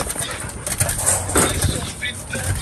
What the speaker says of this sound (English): She seems like a sweet dog.